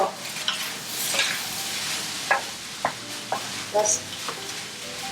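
Shrimp cooking in fried rice in a pan, a steady sizzle broken by scraping stirs and clinks of a utensil, with a brief spoken word at the start.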